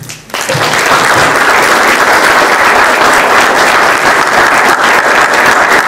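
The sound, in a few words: audience applause for candidates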